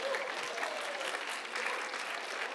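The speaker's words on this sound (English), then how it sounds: "I'm sure he won't mind if you clap a little louder for me" At a student writers' expo debate, an audience applauds a debater: a soft, even wash of many hands clapping and blurring into a steady hiss from a room full of people, with a faint murmur of voices underneath.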